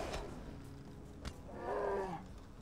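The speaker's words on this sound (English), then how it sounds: "I could hear the bear." A bear in a winter survival video game lets out a single low, drawn-out roar, moderately loud and alone, with no talk over it.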